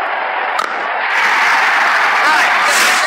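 Cricket crowd at a Bangladesh vs Canada match roars in a loud, sustained wash of cheering that swells after the first second, with a brief sharp spike early on.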